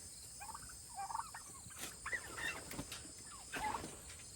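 Baby turkeys in a chicken coop give soft, high peeping chirps in short scattered bursts, faint and close over a quiet background.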